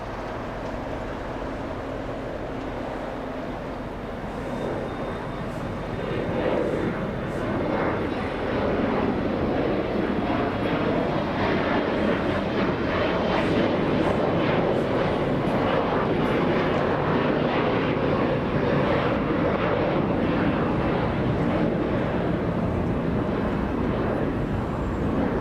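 A Fiji Airways airliner lands and taxis at LAX, its engines a broad, steady roar that swells and holds loud for the rest of the stretch, heard from outside at moderate distance.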